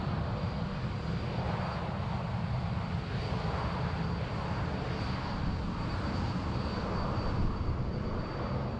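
An Airbus A330 airliner at Sydney Airport produces a steady, continuous engine roar with a broad low rumble and a faint high whine, sustained at even loudness without pauses.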